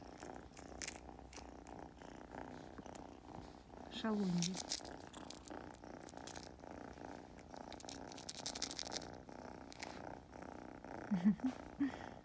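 A Scottish cat purrs steadily up close with quick, open-mouthed panting breaths, while someone speaks softly over it.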